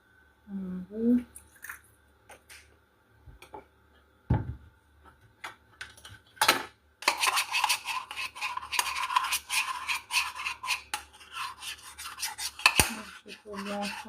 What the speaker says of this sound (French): Et je mélange avec le reste du beurre.